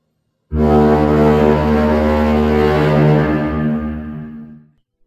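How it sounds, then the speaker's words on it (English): A lighthouse foghorn in the Faroe Islands blasts once, a very loud, deep, steady droning tone held for about four seconds before cutting off abruptly. "The sound of the foghorn was very loud."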